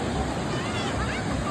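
A holy river runs under a temple with a loud, continuous rushing of flowing water, and a voice can be heard speaking over the torrent.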